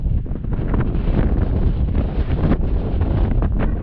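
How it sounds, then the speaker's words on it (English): Strong wind buffeting a microphone on Climb Gap Mountain while a dust devil churns nearby, a continuous loud rumbling roar with gusty flutter and no voices. "That wind is churning."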